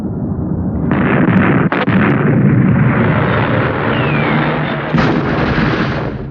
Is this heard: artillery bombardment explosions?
yes